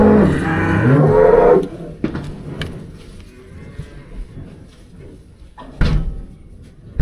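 Cattle on a farm, cows and calves separated, with a loud low moo at the start followed by quieter livestock shuffling and knocks, and another brief call near the end.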